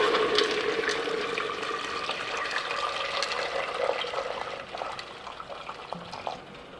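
Heated water being poured into a pot for Brazilian cozido in a home kitchen, a steady near splashing and trickling stream that tapers off toward the end.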